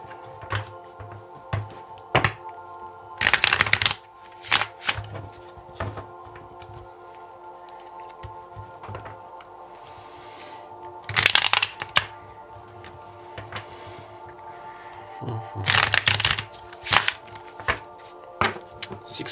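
Tarot cards are shuffled in several bursts of crisp riffling and flapping, spaced apart, with softer taps and handling sounds between. The sounds are close and clear against a faint steady hum.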